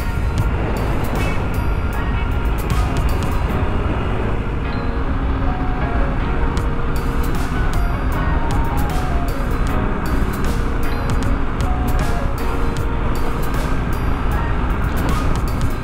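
A vehicle rolling along a gravel highway gives a steady, loud, unbroken rumble of tyres crunching on loose stones, mixed with wind noise. The sound holds at an even level for about sixteen seconds.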